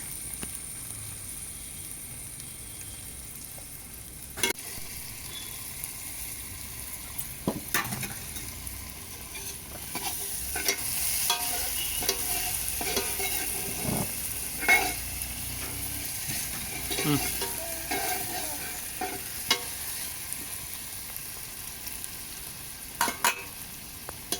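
Chicken biryani frying in a pot while being stirred, a steady sizzle with occasional scrapes and knocks of a spoon against the pot, close and continuous.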